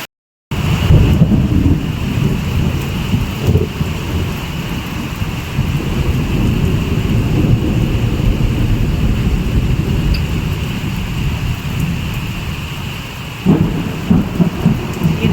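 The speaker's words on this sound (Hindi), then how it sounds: "बारिश देखो, इतनी तेज बारिश हो रही है।" Heavy mountain rain pours down in a steady, loud, close roar with thunder rumbling through it, lasting throughout with no voices.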